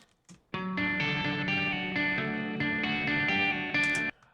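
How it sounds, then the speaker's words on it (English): Electric guitar with effects such as chorus and distortion plays sustained strummed chords for a dance pop guitar beat, loud and steady, alone with no talk. "firstly I started by playing a bit of guitar, which sounds like this."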